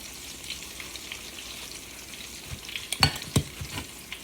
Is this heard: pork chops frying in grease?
yes